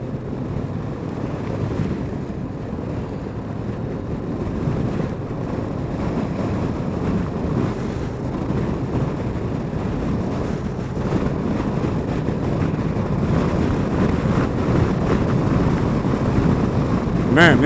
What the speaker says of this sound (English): Man, it is windy out today